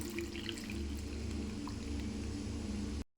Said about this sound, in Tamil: இதில் 1 கப் தண்ணி சேர்த்துக்கலாம்.